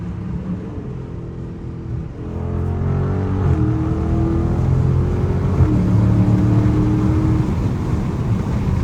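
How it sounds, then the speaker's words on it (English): A stock Dodge Scat Pack downshifting on paddle shifters inside a late-night city tunnel, its engine rumbling from inside the car, with revs stepping up and down in a few distinct shifts. "See, I was using my paddle shifters just then."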